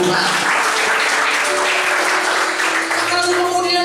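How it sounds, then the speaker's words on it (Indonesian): A church congregation breaks into sustained applause, dense crowd clapping filling the space at steady loudness, with a voice faintly carrying over it. "Berikan tepuk tangan buat Tuhan."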